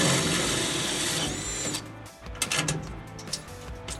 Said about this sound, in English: so I'll drill a 1/4 inch hole.